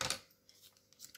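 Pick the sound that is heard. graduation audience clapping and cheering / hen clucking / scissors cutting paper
scissors cutting paper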